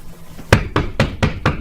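Five sharp knocks on a door, evenly spaced and fairly loud, with a short pause before the first and a steady rhythm after, heard alone without any talking.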